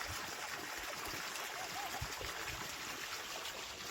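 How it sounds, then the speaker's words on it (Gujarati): Water pumped by a running motor flows into a wheat field with a continuous rushing, trickling wash and small gurgles, fairly close and steady, with no voices over it. "મોટર ચાલુ છે, મોટર અત્યારે પાણી પાઈ છે ઘઉંમાં।"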